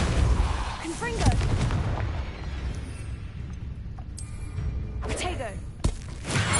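In Hogwarts Legacy, a Confringo fire spell blasts out with booming, explosive bursts, several heavy thuds and crackling impacts in a row, loud and near, over game music and ambience.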